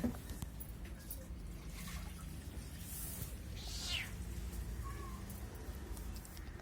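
A cat eating fish lets out a single rising meow near the middle, faint against a constant low background rumble, with a few other soft, scattered noises around it.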